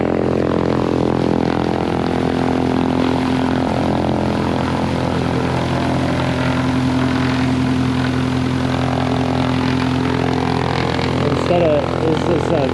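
A small plane's engine and propeller run steadily at an airplane display day in Petaluma, California, a loud continuous drone with a strong low hum that holds throughout, with people talking faintly in the background.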